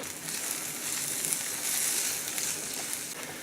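Chopped onion with a pinch of salt sizzling in olive oil in a pan, a steady bright hiss and crackle, fairly quiet and continuous with no talking.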